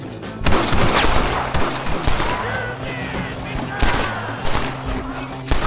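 Gunfire in Red Dead Redemption at the assault on Fort Mercer, loud repeated shots and rapid bursts cracking close over several seconds, with voices speaking between volleys.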